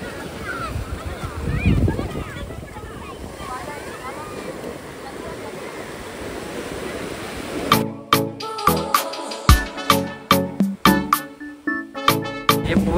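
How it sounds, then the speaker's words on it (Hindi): Ocean waves at Marina Beach in Chennai, a soft, continuous surf wash mixed with wind noise for several seconds, followed by sharper rhythmic thumps. "लहरें देखिए आप, क्या खूब है मरीना बीच"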